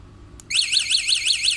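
LM103a anti-theft alarm set off after the lock button is pressed: a loud, close electronic siren with a rapidly rising and falling warble that starts abruptly after a faint click and keeps cycling steadily.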